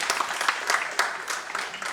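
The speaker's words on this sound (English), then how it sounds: "A loud round of applause for him" An audience at a Lions club district meeting applauds a speaker with a moderate, even patter of many hands that stays fairly steady throughout.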